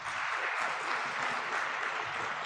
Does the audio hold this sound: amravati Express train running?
no